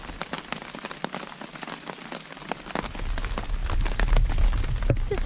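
Light rain and small hail patter steadily on surfaces outdoors during a storm, with scattered sharp ticks of hailstones; the downpour thickens and grows louder toward the end.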